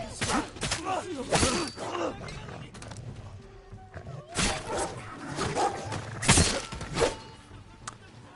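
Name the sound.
dogs barking in video game Ghost of Tsushima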